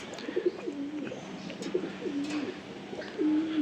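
Breeder flying pigeons coo in a close, repeated series of soft rolling calls, three distinct coos spaced about a second apart over a steady low background hiss.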